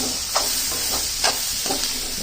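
Mint and coriander fry in oil with a steady bright sizzle, broken by a few soft stirring scrapes, close and alone without talk.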